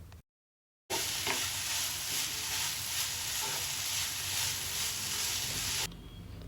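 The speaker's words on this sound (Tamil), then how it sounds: "இப்போ நல்லா வதக்கி விட்டுக்கோங்க" Siru keerai greens are sautéed in a pan with a steady close sizzle and soft stirring scrapes, after a brief silent gap at the start, then the sizzle drops away near the end.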